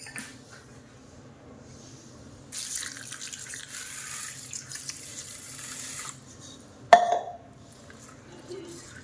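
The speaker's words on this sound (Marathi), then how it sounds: "प्रथम आपल्याला तांदूळ धुवून घ्यायचे आहेत आणि त्यातच मी पोहे घालून घेतले आहेत" Rice and poha are rinsed together in water, with a quiet faucet stream running for a few seconds, a brief splash and slosh of the grains, then soft dripping at close range.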